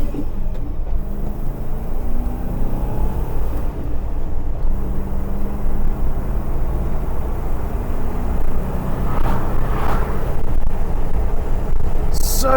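A three-door Land Rover Discovery V8i four-wheel drive pulls away, its engine a steady loud low rumble heard from inside the cabin, rising slightly under acceleration toward the end.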